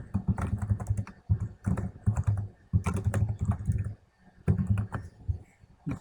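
Someone types text on a computer keyboard, producing close, rapid bursts of clicking keystrokes with brief pauses between runs.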